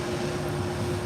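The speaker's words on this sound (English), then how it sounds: "I've got the dust collection system on." A dust collection system runs in a sharpening shop during salon shear work, a steady loud broadband roar with a constant hum, unbroken and alone throughout.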